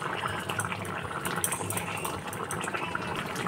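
Water in a soybean curry boils in a pan, a steady bubbling hiss with small pops and gurgles close by, no voices over it.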